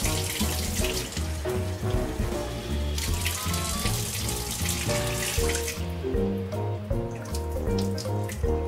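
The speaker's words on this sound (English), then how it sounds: "Let's now wash the udad dal and the rice which has been soaked." Soaked urad dal and rice are washed in water, with steady running-tap splashing and sloshing that continues close and unbroken throughout.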